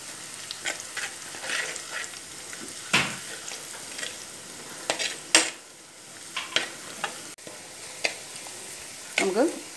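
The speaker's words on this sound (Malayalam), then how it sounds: "നമ്മുടെ ഉള്ളിയൊക്കെ മൂത്ത് വരുന്നുണ്ട്." Sliced onions frying with a quarter teaspoon of turmeric powder in a pan for a fishless fish curry, a steady close sizzle broken by scraping stirs and a few clinks of a spoon against the pan.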